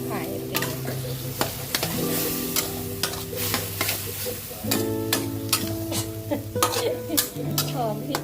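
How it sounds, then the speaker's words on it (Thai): River snails stir-fried with curry paste in a pan for a Thai snail curry, with a steady sizzle under repeated scraping stirs and clinks of a utensil against the pan, close and fairly loud, with no talk. "เราก็ใส่หอยลงไปผัดให้หอม"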